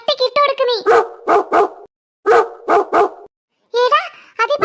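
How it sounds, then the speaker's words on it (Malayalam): A cartoon dog in a Malayalam animated series barks loudly in quick clusters of several sharp yaps, with short silent gaps between bursts and voices talking around them. "എടി നിന്റെ പുറകിൽ ആ പട്ടിയുണ്ട്."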